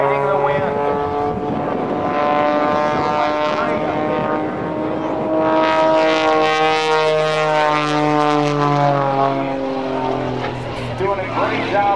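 A propeller aerobatic airplane flies a rolling Cuban eight in windy conditions at a naval air station airshow, its engine note rising and falling in pitch as it climbs and dives, with an announcer talking over it.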